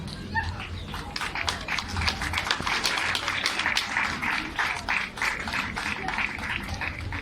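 Applause at a 2023 graduation ceremony, a steady crowd clapping throughout, dense and fairly close, with no pause.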